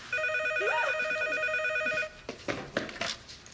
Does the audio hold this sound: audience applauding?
no